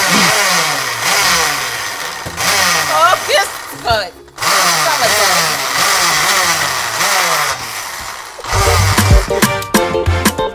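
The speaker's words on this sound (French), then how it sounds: "Là, on va mettre au blender." A kitchen blender whirs in loud bursts with stops and restarts while preparing Haitian rice, its motor pitch sliding up and down like an engine revving, with people talking over it.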